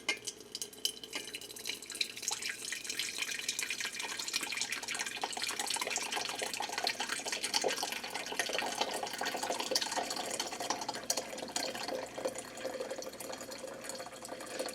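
Water poured steadily into a vessel while making tea, a continuous splashing pour lasting the whole stretch at an even, moderate level, with no one talking.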